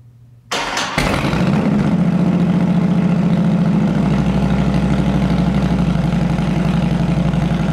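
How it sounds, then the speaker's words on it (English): A Harley-Davidson Touring motorcycle engine cranks, catches and settles into a loud, lumpy idle, its uneven rhythmic thumping continuing close up with no talk. "We're going to run the bike"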